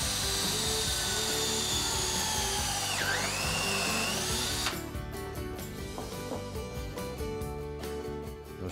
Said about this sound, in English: pre-drilling will really help.